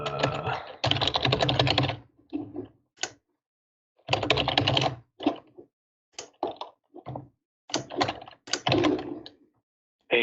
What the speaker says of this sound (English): Angry typing.